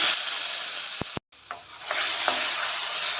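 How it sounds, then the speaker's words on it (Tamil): Tomato paste sautéing with browned onions in a pan for tomato kulambu, a steady close sizzle with a couple of brief stirring clicks and a short break. "இந்த தக்காளி கொஞ்சம் வதங்குறது வரைக்கும் வதக்கிக்குவோம்"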